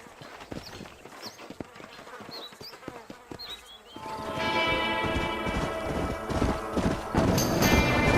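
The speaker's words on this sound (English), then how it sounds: "These are fine horses." Horses' hooves clip-clop in a western video game, a dense run of hoofbeats joined by buzzing insects and faint bird calls, then growing louder and busier as a sustained tonal hum rises over the galloping.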